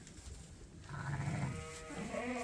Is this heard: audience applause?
no